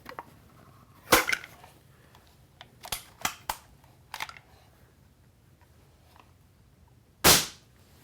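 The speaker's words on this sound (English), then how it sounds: "It's a single stroke, by the way, single stroke, one pump, and it pumps up." A single-stroke pump airgun is pumped and fired: a sharp crack early on, scattered clicks and mechanical snaps from handling and pumping, then a second loud, close report near the end.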